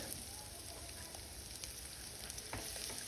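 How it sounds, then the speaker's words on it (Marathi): Chopped onion fries in oil in a pan on a gas stove, a faint, steady crackling sizzle with a few soft stirring scrapes. "त्याच्यामध्ये थोडं तेल घातलेलं आहे त्याच्यामध्ये हा कापलेला कांदा घालत आहे"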